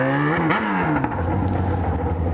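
A Yamaha XJ6 motorcycle engine revs up close, its pitch climbing and dipping before settling into a lower steady drone, heard alone without talk.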